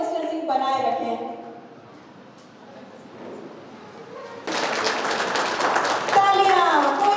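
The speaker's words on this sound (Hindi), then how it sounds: "जोरदार तालियां।" Audience clapping in a festival hall bursts in loudly partway through, a dense wash of hands following quieter talk and tonal sounds, with voices continuing over it.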